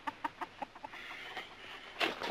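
A chicken clucks in a quick run of short, close, moderately loud clucks, which thin out and fade. A louder rustling burst follows at the end.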